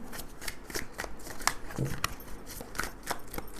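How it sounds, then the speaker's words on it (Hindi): Tarot cards shuffled by hand close up, a quick run of soft riffling flicks and slaps at fairly even intervals, quiet and alone. "This is my last shuffle."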